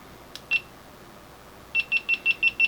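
An Insta360 X camera gives a short double beep, then a run of six evenly spaced electronic beeps as it starts recording, close and clear against quiet background.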